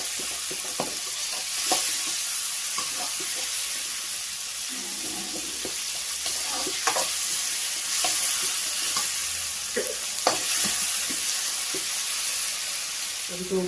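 Tomatoes frying in a pan for an Andhra-style chicken curry, a steady close sizzle with repeated scraping stirs of a spoon across the pan.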